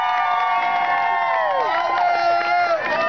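A live stage audience in Asheville claps, screams and cheers together, a loud sustained crowd roar with high whoops and shouts close by and no let-up across the moment.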